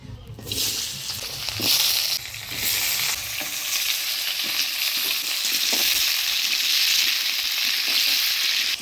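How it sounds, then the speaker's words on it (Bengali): Loud sizzling of diced potatoes frying in hot oil until reddish, with stirring scrapes and bursts of crackle near the start, then a steady close hiss. "আলুগুলো লাল লাল করে ভাজে নিলাম"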